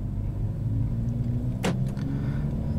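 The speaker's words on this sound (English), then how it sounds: "I have my foot off the clutch and the car is moving under its own power" A 2021 Kia Forte with a manual transmission pulls away under its own power, a steady low engine and road rumble with a brief sharp click or thump midway.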